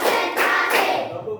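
A group of people claps in a counted sequence, with a few sharp, loud bursts of hand claps followed by a quieter tail, no voices over them.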